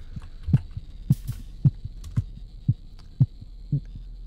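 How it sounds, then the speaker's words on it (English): Steady low heartbeats from the horror video game The Cat Lady thump in regular double pulses over a constant electrical hum, repeating about every half second and speeding slightly. "Rapidly increasing heartbeats."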